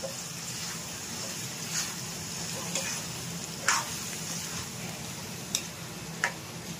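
Spiced vegetables sauté in hot oil for a vegetable dum biryani, a steady low sizzle broken by a few sharp ticks and clinks of a spoon against the pan.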